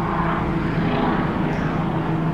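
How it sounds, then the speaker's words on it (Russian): A helicopter flies overhead during a London heatwave, heard from a home garden as a steady, loud engine and rotor drone that fills the whole stretch with no talk over it. "А там летит вертолет еще."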